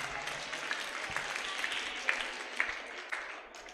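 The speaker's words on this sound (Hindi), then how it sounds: "तालियां बजाओ अपने लिए।" An audience at a Jain religious discourse gives a round of moderate applause, a steady patter of many hands with a few louder claps standing out, fairly distant and tapering off at the end.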